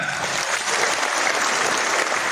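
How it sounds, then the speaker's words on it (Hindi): Loud, dense audience applause at a company diamond celebration event, steady and unbroken throughout with no talking over it. "जोरदार तालियां हो जाए।"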